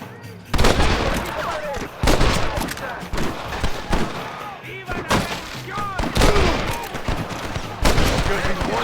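Repeated gunshots and rapid volleys ring out in a Red Dead Redemption gunfight, loud sharp bursts in clusters across the clip, with speech-like voices mixed in.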